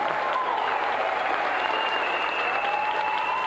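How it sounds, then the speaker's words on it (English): A TV game show studio audience claps in a dense, continuous round of applause, loud and steady throughout, with no voices rising above it. "let's have a round of applause again for our gallant loser, Aidan Smith"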